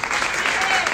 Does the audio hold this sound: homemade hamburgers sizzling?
no